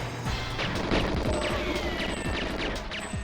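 Pistol gunfire in the video game GoldenEye, a rapid series of sharp close shots with crashing impacts over dense game noise and music.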